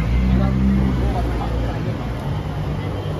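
A city bus in Singapore rumbles along in the evening, a steady low engine drone filling the ride while passengers chat close by.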